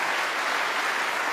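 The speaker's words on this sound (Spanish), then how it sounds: "Un aplauso." Brief burst of audience applause at a debate between Catholics and Jehovah's Witnesses, a dense, even wash of many clapping hands with no speech over it.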